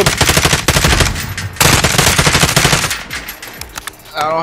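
Automatic gunfire in Call of Duty: Warzone, loud rapid bursts of shots, a long stream broken by short pauses, then a few scattered rounds near the end.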